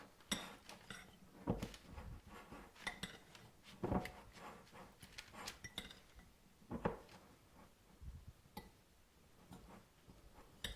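Ingredients are stirred in a bowl with a utensil while making pizza tortellini, giving scattered soft clinks and scrapes with a few sharper knocks against the bowl, spaced irregularly and fairly quiet.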